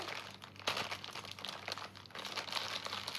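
A Labubu surprise package is torn open by hand, giving close, irregular crinkling and crackling of packaging in short bursts, with no speech.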